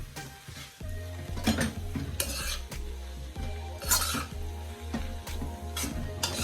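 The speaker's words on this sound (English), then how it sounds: "I'm just gonna give that a stir" Cabbage seasoned with black pepper and all-purpose seasoning is stirred in a pot, with repeated scraping and clinking strokes over a low steady simmer and faint sizzle, close and moderately loud, with no talking.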